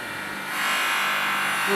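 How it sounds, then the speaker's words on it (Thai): At an aquarium-making workshop, a motorized grinder works the edge of a sheet of aquarium glass, a rough buzzing that swells louder as the tool takes hold, with someone talking briefly underneath. "ถ้าพอสัมผัสกับกระจกมอเตอร์ก็จะมีเสียงดังขึ้น"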